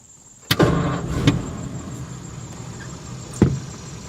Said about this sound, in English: And hit the button to start.